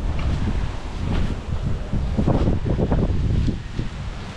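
Strong wind blowing around an outdoor hut, a steady loud roar with gusty rustling and buffeting against the microphone, continuous throughout with no talk.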